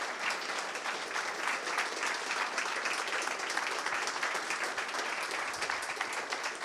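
Sustained, dense applause from a live audience at the BMW UK reveal of the 2023 Team BMW BTCC livery, even and steady throughout with no break.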